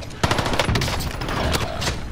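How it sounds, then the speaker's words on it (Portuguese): Gunfire in a multiplayer shooter video game, rapid bursts of automatic shots crackling in quick succession, fairly close and loud, with a few heavier hits among them. "Eu tomei tiro das costas, eu não pensei que tinha gente ainda."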